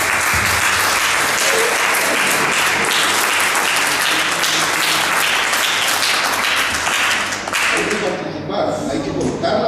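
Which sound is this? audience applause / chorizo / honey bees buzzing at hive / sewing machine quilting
audience applause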